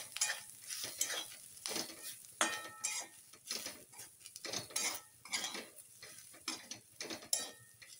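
Grated dried coconut and crushed white sesame being dry-roasted with browned onion in a pan, with steady scraping and clinking of a metal spoon against the pan and a faint sizzle, close and continuous.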